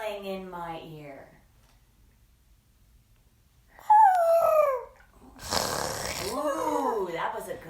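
A storytime reader's voice imitates a leopard's snarl: a short gliding growl followed by a harsh, breathy burst, with the reader talking just before and after.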